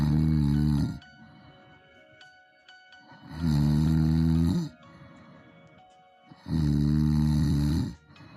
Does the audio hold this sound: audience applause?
no